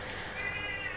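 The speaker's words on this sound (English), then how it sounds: "that's my cat Biscuit in the background, meowing" A pet cat named Biscuit meows once, faint and brief in the background of a quiet room, with no speech over it.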